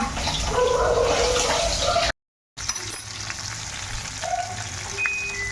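Fish fries in a hot pan in a home kitchen, giving a loud, steady, crackling sizzle that cuts out briefly and then continues a little quieter.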